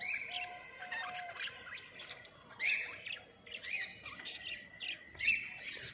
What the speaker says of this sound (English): some budgies lazing around.